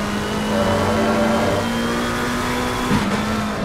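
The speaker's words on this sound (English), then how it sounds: "On board with the McLaren driver." Onboard audio from a McLaren GT3 race car in a racing video game at Monza, a loud continuous engine drone holding steady pitch with a brief shift-like dip near the end.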